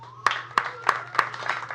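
Fathers in a comedy show audience clap in a steady rhythm, about six sharp, evenly spaced claps in quick succession, fairly close and moderately loud.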